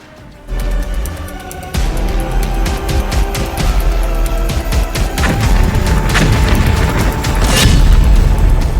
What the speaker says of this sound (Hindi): ईरान में फिर से बम फटा है